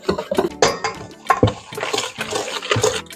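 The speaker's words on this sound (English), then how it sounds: "I essentially whisk everything up until it gets until the puree and the oil and the sugar get nice and smooth and combined" A whisk beats pumpkin puree, olive oil and brown sugar together in a bowl, making close, wet, sloshing strokes in an uneven rhythm of about two to three per second, with no speech.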